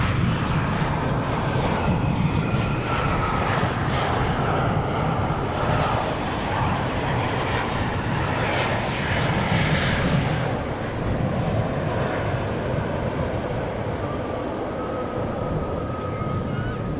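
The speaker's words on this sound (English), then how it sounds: "Suparna Airlines 747-400 freighter going to Nanjing in China, taking off from the center runway" A Suparna Airlines Boeing 747-400 freighter takes off from the center runway at Amsterdam Schiphol, its four engines producing a steady, loud, broadband roar that holds for the whole stretch, with wind buffeting and no talk.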